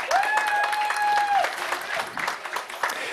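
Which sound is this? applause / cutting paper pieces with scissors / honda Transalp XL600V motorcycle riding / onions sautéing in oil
applause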